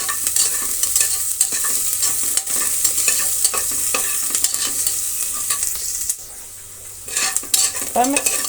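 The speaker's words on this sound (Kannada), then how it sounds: "ಸ್ವಲ್ಪ ಕರಿಬೇವಿನ ಸೊಪ್ಪನ್ನು ಸೇರಿಸ್ತಾ ಇದ್ದೀನಿ" Curry leaves dropped into hot oil for Brahmin-style bisibelebath, giving a steady crackling sizzle with clinks of a stirring spoon against the pan; the frying briefly quietens near the end, then flares up again with sharp pops.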